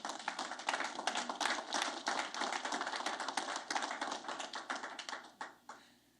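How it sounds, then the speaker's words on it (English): Audience at a provincial government event applauding in a lively burst of many sharp claps, close and fairly loud, thinning out and dying away to a few last claps near the end. "I just want us to once more give a round of applause to a government who is following the trends."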